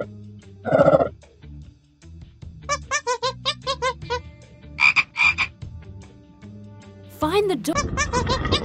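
Cartoonish frog croaks from the PAW Patrol Tracker's Jungle Rescue game, a series of rapid pulsing ribbits in short bursts, heard loud and close, with a brief squeaky animal call at the start and a voice near the end.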